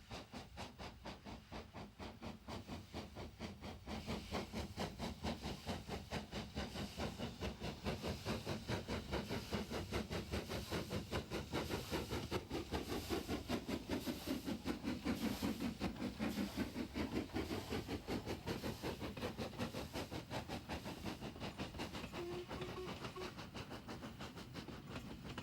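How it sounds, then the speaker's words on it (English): LMS Jubilee class steam locomotive number 5593 Kolhapur leaving Edale station on the Sheffield to Manchester Midland line, a steady rumbling, clattering run with hiss, moderately distant and continuous with no talk. "number 5593 Kolhapur, a member of the Jubilee class, seen leaving Edale on the Sheffield to Manchester Midland line."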